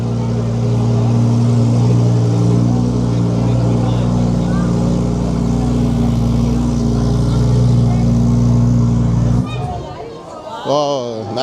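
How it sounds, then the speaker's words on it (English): A yellow Lamborghini at an outdoor classic car show roars past with a loud, sustained engine drone that holds steady for several seconds, then cuts off abruptly as the car moves on, followed by brief crowd noise. "It's a yellow Lambo that was making some phenomenal noise there."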